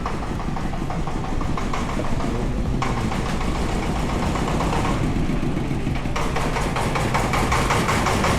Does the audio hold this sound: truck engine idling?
yes